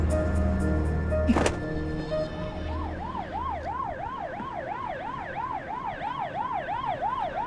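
A police car siren wails loudly in a steady up-and-down cycle, starting after a brief thump and continuing without pause near the listener, arriving at a company building in a drama scene.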